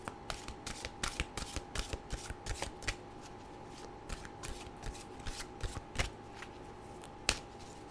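Animal oracle card deck being shuffled by hand, a quick run of crisp riffling snaps and flutters repeating in an uneven rhythm, close up with no voices.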